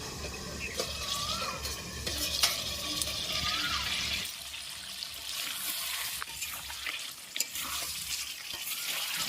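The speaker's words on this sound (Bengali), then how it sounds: "চিকেনটা খুব ভালোভাবে কিন্তু কষে নিতে হবে" Chicken being stirred and sautéed in a pan on a low flame, with steady sizzling and frying noise plus occasional scraping clinks of the spoon, close and continuous, with no talking.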